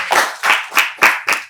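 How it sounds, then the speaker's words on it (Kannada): A studio audience claps together on a talk show, the sound coming in about five loud, bursty surges that rise and fade in quick succession over a short stretch, with no talk. "ಒಂದ್ ದೊಡ್ಡ ಚಪ್ಪಾಳೆ ಬರ್ಲಿ."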